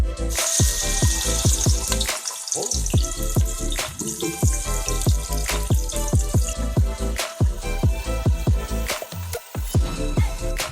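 Onions dropped into hot oil for a green chilli pulao, frying with rapid irregular pops, spits and crackles over a constant sizzling wash, heard up close throughout.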